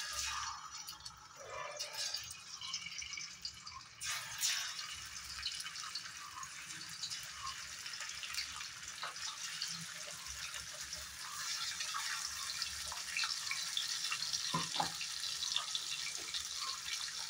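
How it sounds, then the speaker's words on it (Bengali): Rohu fish, rubbed with turmeric and salt, frying in a little mustard oil in a wok, giving a steady close sizzle and crackle with scattered pops throughout, no voices. "মাছগুলো একদম কড়া করে ফ্রাই করে নেব।"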